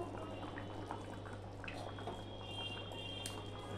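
Bhetki fish curry gravy simmering in a pan with fried fish pieces, a steady, soft bubbling and faint popping under a constant low kitchen hum, close and unbroken throughout.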